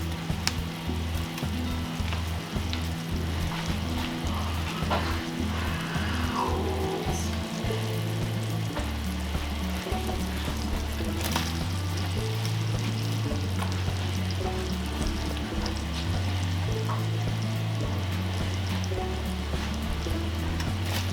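Apples for a from-scratch Dutch apple pie fry in melted butter in a pan, giving a steady, continuous sizzle and crackle with no talking.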